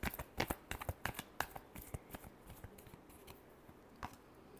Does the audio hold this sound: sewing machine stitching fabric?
no